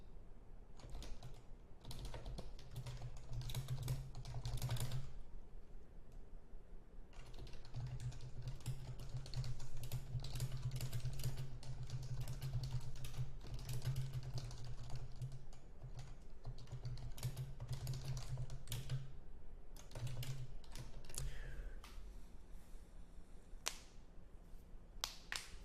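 Someone types on a computer keyboard in a steady stream of quick, close key clicks, with a few short pauses between bursts and no speech.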